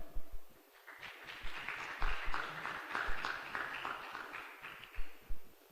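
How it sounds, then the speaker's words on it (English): An audience at an engineering symposium applauds to welcome a panelist, a steady patter of hand claps spread across the room with a few sharper nearby claps, moderate in level. "Please, a round of applause as we welcome Mr."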